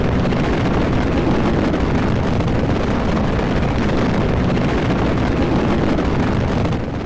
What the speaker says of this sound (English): The sound was awesome. The sound of those engines.